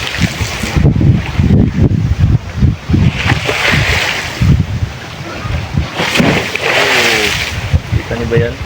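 Heavy ocean waves pound the shoreline in loud, close surges with wind gusting across the microphone, and someone speaks over the crashing water.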